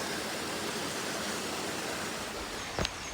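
A waterfall at a small rural spot in Japan gives a steady, soft, broadband rush of falling water, continuous throughout, with a brief knock near the end.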